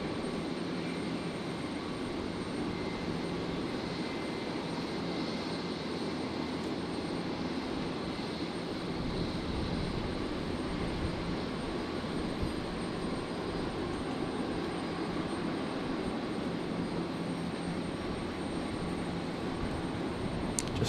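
A jet airliner takes off from runway 01 right at Brisbane Airport at night, a steady, distant roar that holds at even loudness for the whole stretch, with no voices over it.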